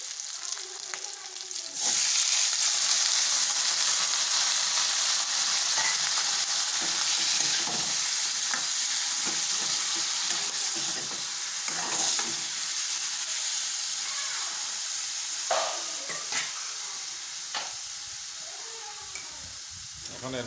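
Small mola fish frying with onion and green chili, a steady loud sizzle with scraping stirring strokes throughout.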